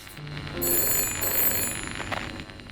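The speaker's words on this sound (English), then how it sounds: "Then the Vox phone screamed, and I damn near jumped out of my skin." A Vox phone in the Shadows of Doubt detective video game rings with a bright electronic trill, bursting out loudly after a brief quiet moment and sustaining for over a second before fading, with no speech.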